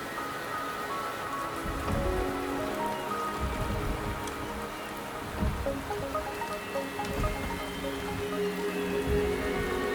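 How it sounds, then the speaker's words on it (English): Steady rain falls across a video game world during a main quest chapter, a continuous patter of drops on surfaces with occasional heavier splashes, moderately loud and with no voices. "The rain is subsiding, and the sky will soon clear."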